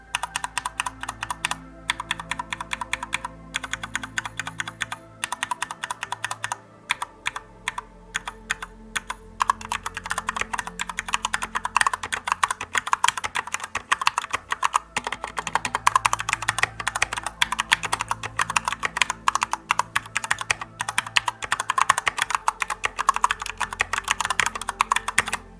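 Rapid, steady clacking of a Corsair K65 RGB Mini 60% mechanical keyboard being typed on, close and continuous with no voices.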